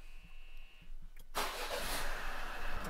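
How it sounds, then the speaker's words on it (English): A car engine cranks and catches in a cold garage during an unusually cold northern Swedish winter, then settles into a steady, loud idle close by. "I've let the car run 1 minute in the garage so it heats up a little bit before I go up"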